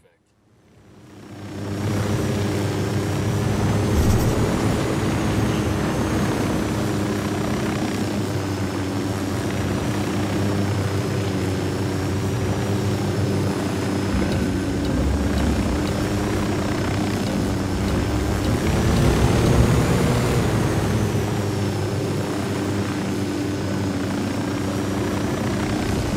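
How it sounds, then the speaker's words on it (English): Surveillance drone in Ghost Recon Wildlands lifting off and flying, a steady buzzing whine with a wavering pitch that rises quickly from near silence and stays loud and constant, with voices now and then underneath. "Drone is airborne."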